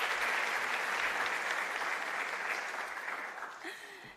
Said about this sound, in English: Let's give a round of applause for Ndabi.